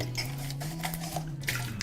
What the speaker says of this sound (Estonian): Võtame natukene vett, loputame läbi